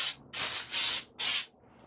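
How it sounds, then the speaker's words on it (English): Brake parts cleaner is sprayed onto rear brake parts of a 2004 Infiniti G35X in four sharp aerosol hiss bursts, each lasting a fraction of a second, close and alone. "So I just decided to hit the parts with some brake parts cleaner before installing the new rotor."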